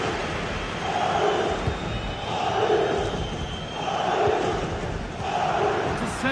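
Football video game crowd chanting and cheering in a stadium, a steady roar with rhythmic swelling chants repeating about every second and a half.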